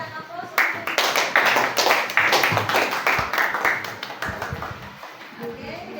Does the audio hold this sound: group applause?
yes